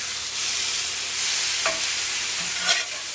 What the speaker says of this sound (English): I am going to heat my corned beef up because I like a hot corned beef sandwich